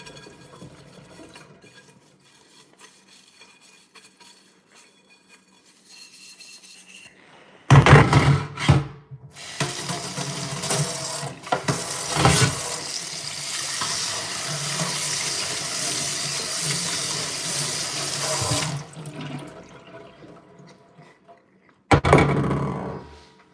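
Tap water runs into a sink while dishes are washed, a steady close rush lasting about ten seconds, with clatter at the start, a few knocks, and a short burst of water again near the end.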